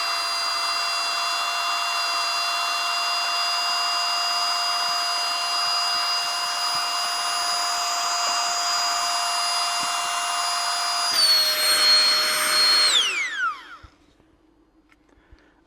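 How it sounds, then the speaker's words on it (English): A compression backpack's vacuum sucks air out of the bag: a loud, steady motor whine with a high tonal hum runs for about thirteen seconds, then winds down and cuts off, leaving quiet. "we can vacuum up all the extra air in there"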